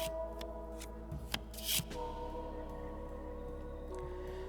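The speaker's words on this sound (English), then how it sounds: "Think about Adiana while I shuffle my deck" Card deck shuffled inside the video game Cosmic Wheel Sisterhood, a short riffling burst of papery clicks and a quick flutter rising over a steady low background hum, then settling back.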